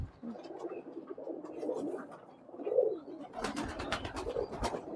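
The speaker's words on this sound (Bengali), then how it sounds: "এই একটা ঘরের ভিতর যেহেতু সব ধরনের কবুতর আছে" Pigeons of many breeds kept together in a pigeon house coo softly in low, rolling calls, close by, followed near the end by a burst of fluttering and scuffling.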